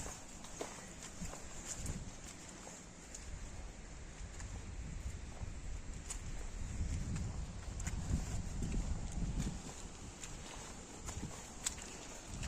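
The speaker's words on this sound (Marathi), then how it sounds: "गाय रे येतात" A herd of cows walks on an earth path near a cattle shed beside rice fields, with faint irregular hoof steps under steady wind noise outdoors.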